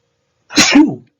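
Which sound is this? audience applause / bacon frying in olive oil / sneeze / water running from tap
sneeze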